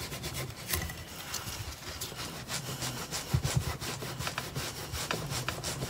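White paint being rubbed off wood by hand, heard as steady, close scrubbing strokes that repeat in an uneven rhythm.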